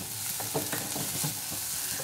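Chilli chicken being stirred in a pan just after vinegar goes in, soft repeated scraping strokes over a continuous gentle sizzle, close and without speech.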